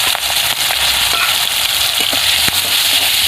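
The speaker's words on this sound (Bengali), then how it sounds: "মাছটাকে একটু হালকা করে ভেজে নেব" Prawns fry in hot oil with a loud, steady sizzle and dense crackling pops throughout, close up and with no talking.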